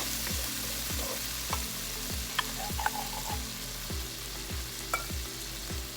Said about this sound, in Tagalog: Lagyan natin ang ating tomato sauce.